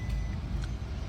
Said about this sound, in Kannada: ಕಾರಿಗೆ ಬಾಯಾರಿಕೆ ಆಗಿದೆ ಅಂತೆ. ಸೊ ಬೀಪ್ ಸೌಂಡ್ ಬರ್ತಿದೆ